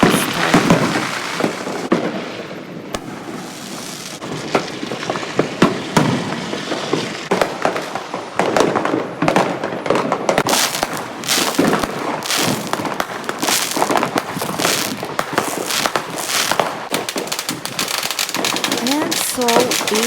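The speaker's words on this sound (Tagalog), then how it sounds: "Fireworks started." New Year fireworks burst outside a house at midnight: dense, irregular crackles and bangs, some loud and near, others distant, overlapping continuously with a voice occasionally heard beneath.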